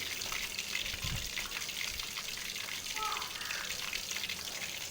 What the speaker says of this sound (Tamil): எடுத்து நம்ம எண்ணெயில் பொரிச்சிக்கலாம்